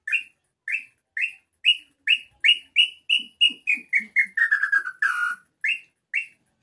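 Human throat whistle imitating the call of a red-footed tinamou, a series of about fifteen clear, sliding whistled notes in a steady rhythm that speeds up and drops in pitch near the end, loud and close with no talking.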